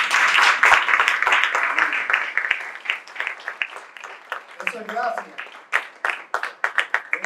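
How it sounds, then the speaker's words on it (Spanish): Church congregation claps in a fading round of applause, dense at first then thinning into scattered claps, with a voice speaking briefly near the end. "Denle un aplauso al Señor."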